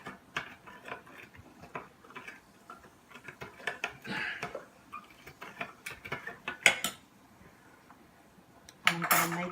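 A metal spoon stirs a glass of Country Time lemonade, giving a string of light clinks and taps against the glass, fairly close and with no voices.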